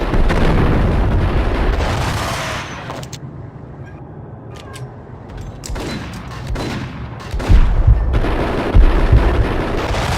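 Dense, continuous gunfire and explosive blasts roar through a Max Payne video game firefight, loud and close, with rapid shots layered over a heavy rumbling background throughout.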